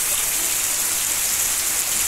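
Heavy rain pours steadily on a farm, a dense, unbroken hiss of water close by with no letup across the whole stretch.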